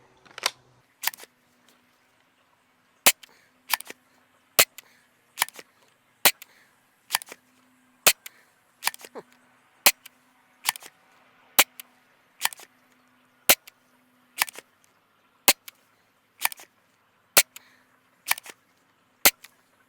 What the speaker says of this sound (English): All right, got the Worker Gen 3 orange tip 1 gram darts loaded up. We'll see how they do.